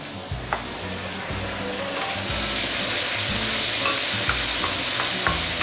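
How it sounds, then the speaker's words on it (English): Curry leaves and chopped tomato hit a hot pan for fish head curry, producing a loud, continuous sizzle with rhythmic stirring scrapes and occasional sharp pops, with no talking. "Now I'm going to put in the curry leaves and also the tomato."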